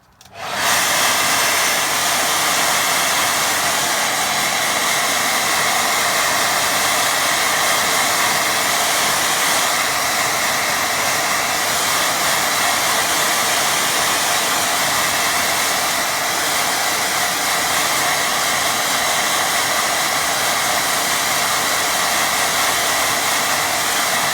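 A hair dryer blows steadily and loudly on a watercolour painting, switching on at the start and running as a continuous even roar with no talking.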